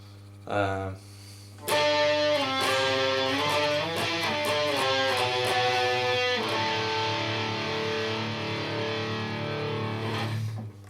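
A distorted electric guitar plays a riff, with dense, driving picked notes after a brief opening strum. The guitar is loud and close throughout, with no talking.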